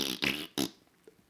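Three quick, buzzy fart noises burst out one after another, the last a short sharp blast, followed by near silence with a couple of faint clicks; the sounds may be made by a voice mimicking flatulence.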